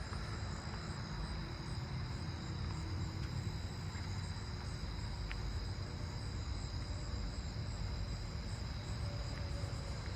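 Crickets and katydids trilling in a residential neighbourhood at night, a steady unbroken wash of high insect buzz that neither swells nor fades, with a few faint distant clicks and no voices.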